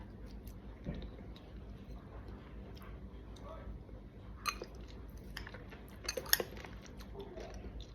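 Red currants tossed with chili salt being chewed up close: soft, wet bites and quiet mouth sounds, with a couple of sharper crunches or clinks, all fairly faint.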